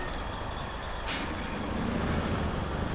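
A Kenworth C500 truck engine in the video game SnowRunner idles with a steady low rumble, broken by a sharp burst of air-brake hiss and a shorter release near the end.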